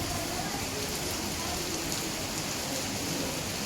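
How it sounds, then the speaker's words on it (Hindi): Heavy monsoon-season rain pours down outside a home, a dense, steady hiss of drops on surfaces that fills the clip without a break. "और देखिए कितनी तेज बारिश हो रही है, बाहर हो रही है।"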